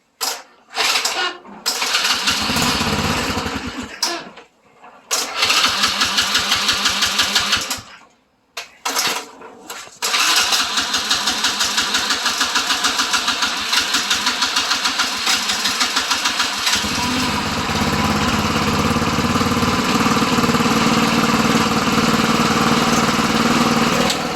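A little quad engine with the choke on gets several sputtering starting attempts with short gaps between them. It then catches and settles into a steady, buzzing idle up close.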